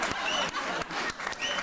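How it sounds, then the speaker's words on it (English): Applause from a studio audience in a comedy show, moderately faint with a few sharper hits standing out from the steady clapping. "you get out there and take your applause"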